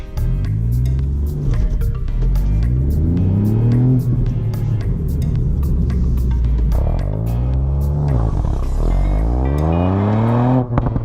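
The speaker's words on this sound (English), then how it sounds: "I'm gonna quickly demonstrate to you what launch control is like." A 2019 Ford Fiesta ST is launched using launch control: the engine holds a loud revving note, then pulls hard through several rising gear sweeps with short shift breaks, heard from inside the car without talk.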